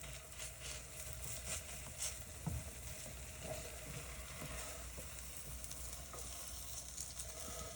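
Egg for an omelet cooks in a pan with a steady close sizzle and occasional soft scrapes or taps of a utensil.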